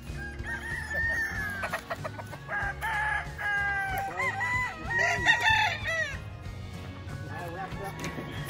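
Roosters on a chicken farm cluck and crow repeatedly, with loud drawn-out crows layered over steady clucking from several birds nearby, while people talk at times in the background.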